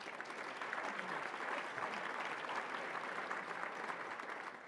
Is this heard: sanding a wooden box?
no